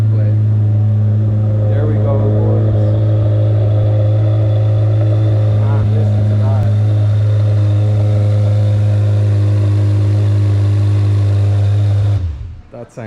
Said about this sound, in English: That sounds insane. Flat plane crank, which is basically the same as a Ferrari 458.